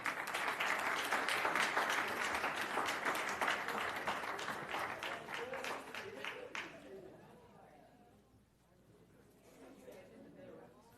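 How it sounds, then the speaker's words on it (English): Audience applause at a school board meeting for Florida's Outstanding Art Educator of the Year 2022: a room of hands claps steadily, then the clapping fades out, leaving quiet room murmur with soft voices. "Let's give her a round of applause."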